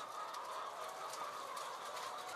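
A dense, steady chorus of many egg-laying hens clucking together, a constant crowded murmur with no pauses, like a packed indoor poultry house where the birds never see daylight.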